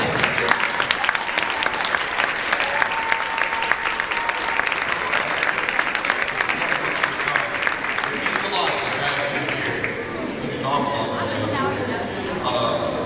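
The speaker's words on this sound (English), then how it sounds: "Let's have you stand up and receive a round of applause." A gym audience at a marching band drumline and guard performance gives a sustained round of applause, dense steady clapping mixed with crowd chatter and a few voices, thinning slightly toward the end.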